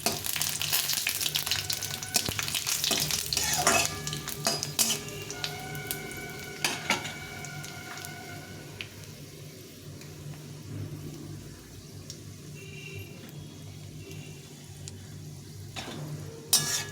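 Panch phoron spices, dried red chillies and bay leaves sizzle and crackle in hot oil, a steady frying hiss with occasional clinks of a spoon against the pan, heard close up without talk.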